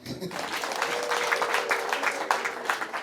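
A wedding crowd bursts into steady, dense applause lasting a few seconds, with many hands clapping together and a faint voice underneath.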